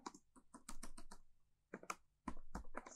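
Quiet, rapid keystrokes on a computer keyboard as a project title is typed, coming in bursts with brief pauses, close up and without speech.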